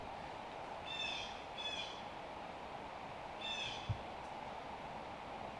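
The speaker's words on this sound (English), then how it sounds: "Birds waking up with us." Several short bird calls, including blue jays, in scattered bursts at dawn on a disc golf course, fairly distant over a steady outdoor hiss, with a brief low thump near the end.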